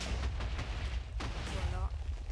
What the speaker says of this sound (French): ça permet de faire des explosions à l'infini